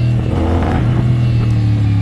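A CFmoto CLC450 cruiser motorcycle being ridden with mild acceleration, its engine a loud, close, steady low drone with a slight rising hum throughout.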